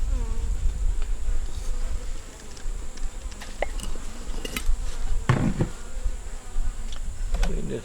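Honey bees buzzing in a dense, steady drone at an open hive during an inspection, close and loud throughout, with occasional clicks and scrapes of handling over the hum.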